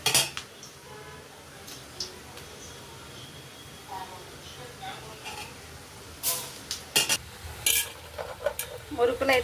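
Rice flour murukku fry in oil in a kadai, a soft sizzle punctuated by bursts of metal utensil clinks and scraping near the end, with a voice talking at times.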